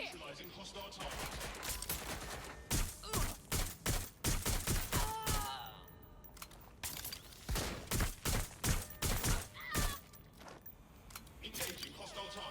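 Bursts of gunfire in the Watch Dogs Legion video game, repeated rapid volleys of shots with thuds, loud and close, interspersed with short gaps and some game voice chatter.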